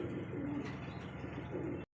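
A pigeon coos in a fancy-breed loft, a continuous low rolling call held close and fairly loud for about two seconds before cutting off.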